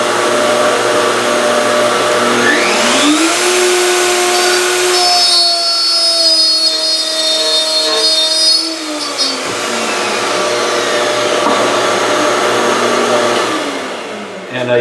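A Festool OF 1400 router making a test cut in wood, a loud steady motor whine that shifts in pitch as the bit bites and releases, running nearly the whole time with no talk.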